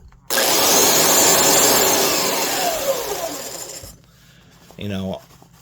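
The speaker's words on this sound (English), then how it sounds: "a belt sander, that's what it's supposed to do. It's supposed to move enough air to inflate the bag." A Bosch 1273D 4x24-inch belt sander with its dust bag fitted runs loud and close as a steady broadband roar for about three and a half seconds, then winds down. A brief voice follows.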